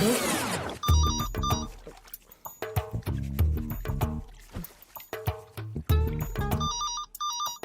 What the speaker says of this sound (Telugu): ఏమంటే ఫోన్ ఎత్తండి, ఖాళీగానే ఉన్నారు కదా.